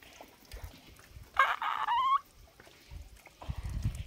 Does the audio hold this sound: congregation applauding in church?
no